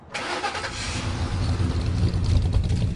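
A 1965 Chevrolet Impala SS with a 396 engine starts up and revs, a loud, close, throaty rumble that builds steadily over a few seconds with no talking.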